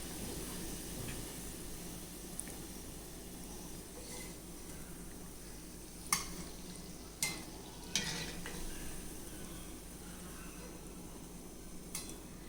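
Banana fritters (pazham pori) deep-frying in hot oil, giving a steady, faint hiss and bubbling sizzle with a few soft clicks of a utensil against the pan, and no talking.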